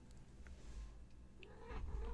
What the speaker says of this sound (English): So the kitties are here, absolutely.